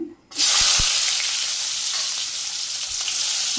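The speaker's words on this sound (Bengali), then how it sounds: "পেঁয়াজটা একটু ভাজি করে নিই" Chopped onion hits hot oil in a wok and erupts into a loud, steady sizzle that carries on without pause, with no voices.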